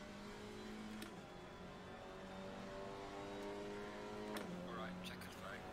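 Alpine A110 GT4 race car engine in Assetto Corsa Competizione, a steady droning hum that holds pitch and dips briefly around gear changes, with a soft background bed throughout.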